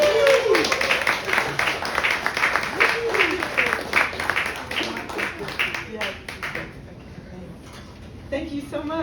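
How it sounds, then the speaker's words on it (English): An audience at a Rivertown Poets reading claps warmly to welcome a featured poet, the dense applause tapering off after about six seconds as a voice begins speaking. "Please give a warm, energetic Rivertown applause"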